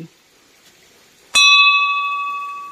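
A single metal bell is struck once, ringing out clearly and loudly, its bright tone slowly decaying after a quiet moment.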